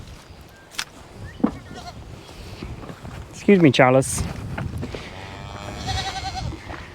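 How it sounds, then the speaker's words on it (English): Baby goats at a sale barn, one clear wavering bleat mid-clip and fainter calls later, over barn noise, with a person speaking briefly. "Come on, baby goats."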